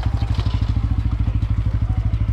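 Motorcycle engine running close by, its loud rapid exhaust pulses thumping in a steady, even rhythm throughout.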